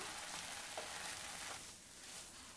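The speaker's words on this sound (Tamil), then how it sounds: "இது கூட நம்ம துருவி வச்சுருக்க தேங்காய் சேர்த்துடலாம் கலந்து விட்டுறலாம்" Grated coconut being stirred into a moong dal filling for kozhukattai in a pan, giving a steady soft sizzle and scraping that carries on evenly throughout, with no talking.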